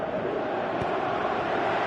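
A football crowd cheers and roars in a steady, dense wash of many voices through a stadium, sustained at an even level from start to finish.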